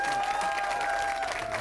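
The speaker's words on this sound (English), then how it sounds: "Let's give him a big round of applause." Brief burst of crowd applause at a martial arts school event, dense and steady, with a tonal hum running beneath the clapping.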